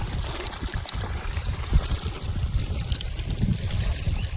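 Irrigation water running into a rice paddy field, a continuous low gurgling rush with a wind-like rumble outdoors, steady and fairly close, with no voices.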